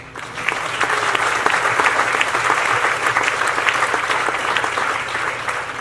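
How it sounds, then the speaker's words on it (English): A crowd applauds loudly and continuously at the opening of an Irish festival, a thick, even wash of many hands clapping close by for several seconds. "That deserves a round of applause."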